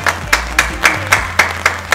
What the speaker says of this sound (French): Nous applaudissons.